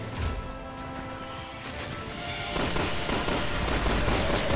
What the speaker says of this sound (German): dann muss ich wohl wieder mal eine Runde schießen